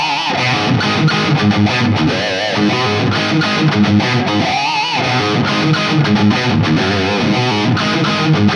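A heavily distorted electric guitar plays a dense, driving rock riff section, loud and continuous with rhythmic palm-muted chugs and bright sustained chords throughout.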